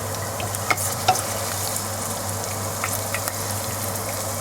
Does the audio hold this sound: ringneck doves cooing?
no